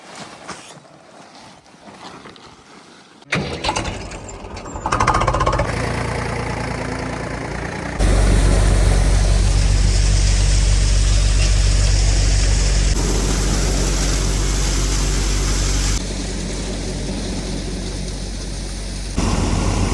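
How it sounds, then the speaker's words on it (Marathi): A farm tractor's engine starts up and runs loud and near, a steady low diesel drone that shifts in level as it revs and pulls away over about twenty seconds. "सगळे टाटा केला, ट्रॅक्टर बी चाललं गेलं."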